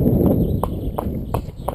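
A horse's hooves clip-clop at an even trot, several sharp distinct strikes over a heavy low rumble of wind on an outdoor ride.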